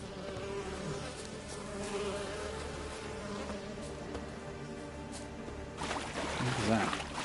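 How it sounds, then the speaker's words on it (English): Swarming bees drone in The Witcher video game, a steady buzzing hum running throughout beneath game music and ambience, swelling louder near the end. "More bees."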